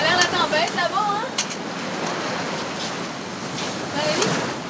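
Stormy sea and wind rush steadily from a sailing boat. A broad roar of surf and wind gusts fills the scene, while faint voices and some whistling tones sit in the background.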